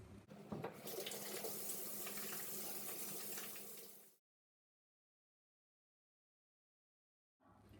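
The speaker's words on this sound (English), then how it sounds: "wash your hands." A tap runs into a sink while hands are washed, a loud continuous splashing rush for about four seconds that stops abruptly, followed by silence and then the water briefly starting again.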